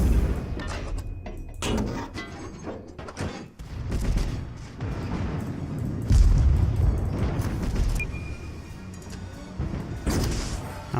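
Torpedo hits and explosions in World of Warships, a series of deep booms and crashing impacts rolling over a constant rumble of naval battle, some heavier blasts standing out among scattered crackling shots.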